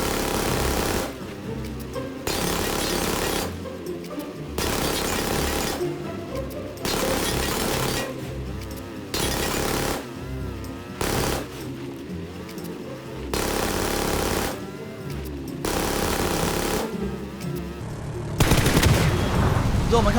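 Bursts of automatic M416 rifle fire aimed at a supply truck in PUBG, about eight sustained loud volleys of rapid shots separated by short pauses, close and continuous over twenty seconds.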